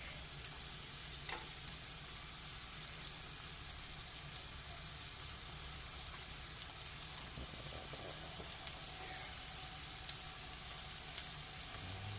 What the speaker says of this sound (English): get these guys browned off before we chuck them in the oven